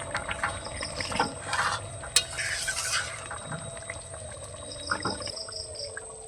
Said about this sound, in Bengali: আবারও একটু নেড়ে চেড়ে দিচ্ছি।